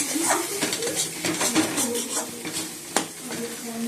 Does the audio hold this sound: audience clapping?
no